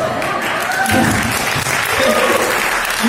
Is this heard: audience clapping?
yes